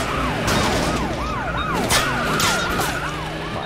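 A police car siren in Scarface: The World Is Yours wails in a fast, repeating up-and-down yelp, loud and close over engine noise and traffic during a chase.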